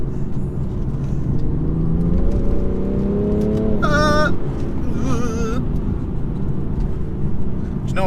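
A 2017 BMW 435d turbo diesel engine drones and climbs in pitch under hard acceleration as boost comes in, loud and close, with a few brief high squealing tones over it.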